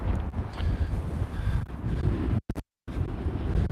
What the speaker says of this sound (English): We're getting pretty windy here.